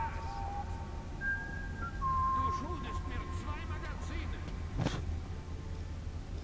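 A man whistles a few sustained tones in the Metro 2033 video game, faint and thin beneath game ambience and voices.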